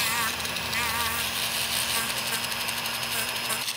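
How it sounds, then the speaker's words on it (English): A rotary tool with a 200 grit sanding drum rounds over the edges of a costume prop with a steady, high-pitched whine. The sound is continuous and close throughout, with no talk. "I'm just gonna go with my rotary tool and a 200 grit drum on here and round over the edges"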